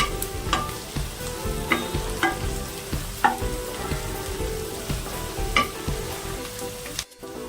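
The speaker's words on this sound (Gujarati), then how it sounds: "આપણે લીલા લીમડાના પત્તા નાખી દઈએ। હવે શેકી લેવાનું છે બરાબર।" Curry leaves roast in a pan for a fresh green corn chivda, a constant crackling sizzle with regular spoon scrapes against the pan, near and alone, with no talking.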